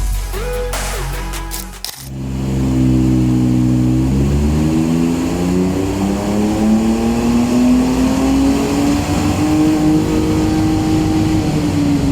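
A 2025 Ford Ranger Raptor V6 with a Magnaflow full exhaust and Unichip ECU revs up on a dyno, its loud close engine drone climbing steadily in pitch for about ten seconds after an abrupt start.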